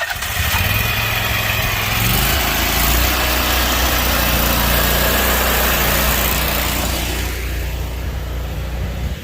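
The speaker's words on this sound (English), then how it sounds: "Homeowner told us to go ahead and mow it" Small gas lawn mower engine running steadily while mowing a residential yard, a loud continuous droning hum close by with no talk.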